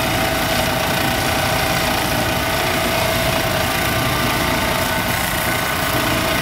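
Lapidary wheel running on 800 grit while a chrysocolla nugget is ground and turned against it: a loud, constant motor whine and gritty wet rasp, unbroken and close.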